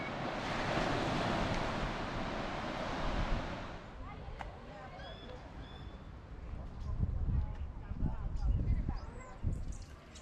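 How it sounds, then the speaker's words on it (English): Loud ocean surf rushes onto the beach at Loch Ard Gorge for the first few seconds, then eases into softer wave wash and wind buffeting the microphone, with low rumbling gusts and faint voices toward the end. "Just walking down to the beach at Loch Ard Gorge."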